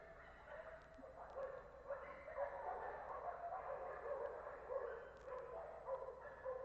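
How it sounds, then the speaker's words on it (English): Several dogs bark and yip at a distance, a steady run of overlapping barks and whimpers that carries on throughout without any talking. "Not used to all that barking."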